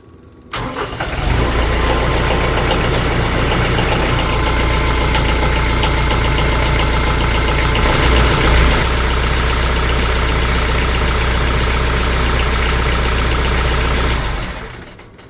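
A car engine idles with fresh oil after an oil change. It kicks in after a second, then runs as a loud, steady, close rumble before cutting off near the end.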